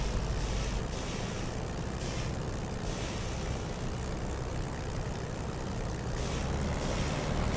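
A WWII warbird's piston engine runs up to about 1500 RPM in the DCS flight simulator, a loud, steady propeller drone and throbbing rumble that fills the whole stretch.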